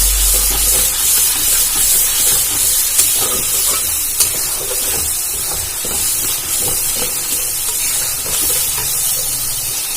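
Soybean chunks fry in a pan with spiced water, giving a steady loud sizzle and hiss for the whole stretch, with stirring scrapes and small pops scattered throughout and no talking.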